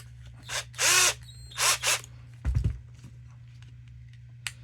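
A cordless drill whirs in several short bursts while loosening screws on an RC car transmission, a brief loud clunk between them, then quiet with a faint tap at the end.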